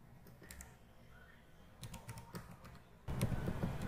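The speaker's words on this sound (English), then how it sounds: "In search box type" Close, quiet clicking of computer keys in short bursts, with a denser flurry of keystrokes at the end and no voices.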